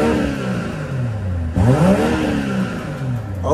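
A 2021 BMW M440i xDrive coupe's twin-turbo inline-six idles with a deep hum, then revs sharply upward with a rising, throaty roar before settling back down.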